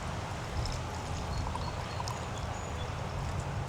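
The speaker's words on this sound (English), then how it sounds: "We're going to pour into our cat mug" Herbal tea made from fresh herbs pours into a cat-shaped mug as a steady, quiet trickle of liquid running for a few seconds, with no one speaking over it.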